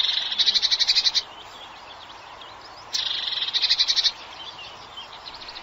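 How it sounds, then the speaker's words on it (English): Birds singing in spring, two bursts of rapid, high trilling chirps separated by a quieter pause, moderately distant against soft outdoor background. "birds start singing more as they look for a mate"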